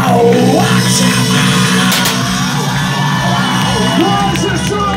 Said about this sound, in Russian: Больше шума, больше аплодисментов!